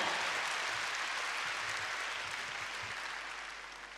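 Audience applause at a concert evening of songs fills the hall, a dense, steady clapping that slowly fades toward the end.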